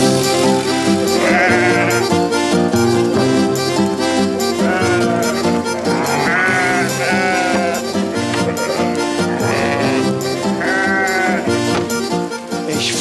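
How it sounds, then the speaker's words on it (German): Sheep in a scene from a German TV series bleat in several wavering cries, spaced a few seconds apart, half-buried under loud, continuous music. "Schafe, Herrgott macht euch vom Flecken."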